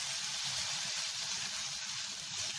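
Chili powder and turmeric fry in a pan for a Kerala-style moru curry, giving a faint, steady, even sizzling hiss that carries on without a break.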